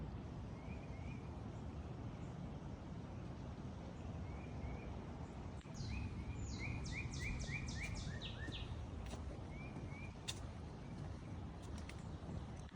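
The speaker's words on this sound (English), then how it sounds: "Hear the birds." Faint birds chirping in a quiet outdoor nature preserve in Allen, Texas, a short burst of quick repeated notes in the middle over a steady low background hiss.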